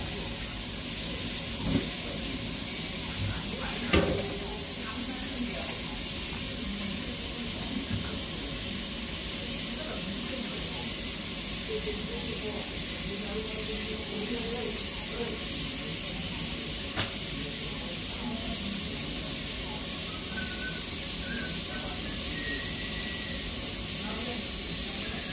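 An egg frying in a covered pan, a soft continuous hiss and faint sputter heard at low level, with occasional light clicks.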